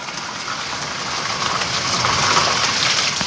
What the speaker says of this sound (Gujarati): કરા વરસાદની સાથે પણ કરાલ ચાલુ છે